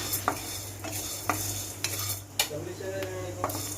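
Red chillies being dry-roasted and stirred in a pan for Madchina Karam Podi, with repeated scraping clinks of a spoon against metal over a steady low hum, close and fairly loud, with no talking.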